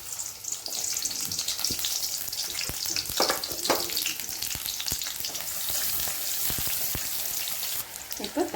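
Onions sizzle and crackle in hot oil for chicken gravy, a dense steady frying hiss with occasional louder pops and stirring, and a voice speaking faintly.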